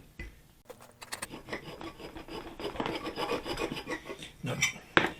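Hacksaw cutting rubber on an MGB GT door, heard as close, irregular rasping strokes that grow busier and louder toward the end, with a few sharper scrapes.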